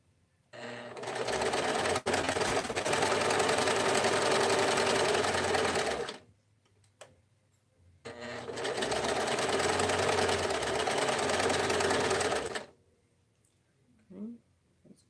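A sewing machine stitches minky fleece fabric in two long, loud, steady runs of about six seconds each, separated by a quiet pause. A brief bit of speech follows at the end.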